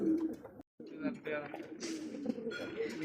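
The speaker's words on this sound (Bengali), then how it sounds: "দেখতে পাচ্ছি এখানে আরও একজোড়া কবুতর" A pair of Giant Homer pigeons coos close by at a pigeon sale, the soft throaty calls repeating through the short stretch while someone talks over them.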